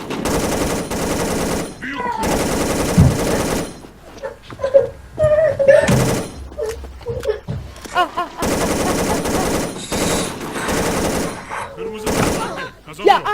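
Automatic gunfire in the online shooter Wolf Team comes in loud sustained bursts and scattered shots, with players talking over the game between and during the volleys.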